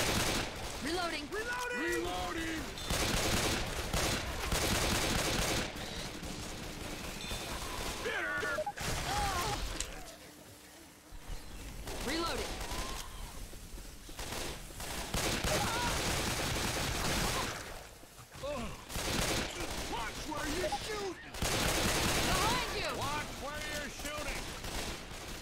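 Dense bursts of automatic gunfire from Left 4 Dead 2 rattle on and off throughout, with short pauses between volleys, mixed with shouting voices and crashing game effects.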